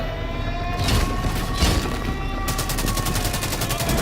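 Sustained gunfire roars without pause, dense overlapping shots forming a fusillade loud and close, with a harsh steady crackle underneath and no clear gaps between reports.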